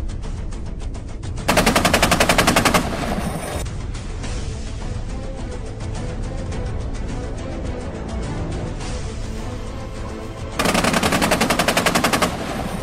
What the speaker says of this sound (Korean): 대공 사격 시험.